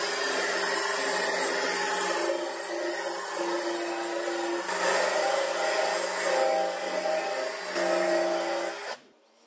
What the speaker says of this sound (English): The best way I found to get a nice finish on this is to use a 2-inch diameter nylon